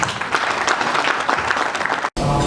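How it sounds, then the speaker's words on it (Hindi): A crowd at a community service achievement awards ceremony claps loudly and continuously, with a brief cutout near the end before the applause resumes. "जरा ताली बनती है।"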